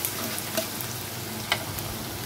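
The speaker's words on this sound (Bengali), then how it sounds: "এখন রসুনটাকে একটু পেঁয়াজের সাথে ভেজে নেব।" Four or five crushed garlic cloves fry with onion in hot oil, giving a busy, steady sizzle with a couple of sharp crackles as they are stirred, and no voices.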